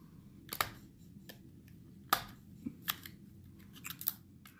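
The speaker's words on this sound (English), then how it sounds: "Not going to open it without tearing the box though." Cardboard eyeshadow packaging being torn and pried open by hand, with a few sharp ripping and crinkling bursts scattered among quieter rustles, close and fairly faint.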